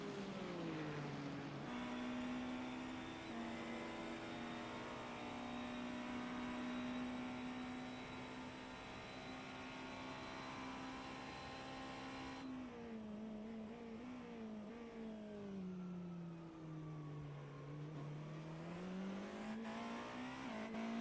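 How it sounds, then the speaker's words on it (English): Onboard engine of a Porsche race car in a racing video game during an endurance event, a loud sustained high whine that holds steady, drops sharply on a gear change or braking, then climbs again as it accelerates. "We'll ride on board for a full lap and listen on with the sounds of the Porsche"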